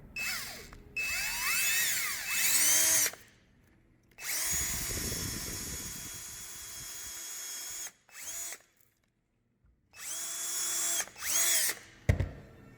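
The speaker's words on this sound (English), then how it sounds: "Now I'm going to take our 5/16 drill bit and pre-drill what would be the center of that arc" A power drill with a 5/16 bit whines in several bursts, spinning up and pre-drilling into wood, with silent pauses between runs and a short final burst.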